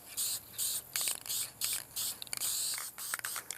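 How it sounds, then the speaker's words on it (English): Black spray paint hisses from a tin over a stencil laid on a cutout, in a garage setting: a series of short and longer bursts, close and fairly loud, with brief pauses between them. "So I found a tin of black spray paint in the garage, put my stencil on top of the cutout here, and we just spray it on."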